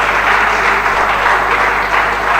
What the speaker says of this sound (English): may we give a round hand of applause to the Young Lawyers Forum NBA Port Harcourt branch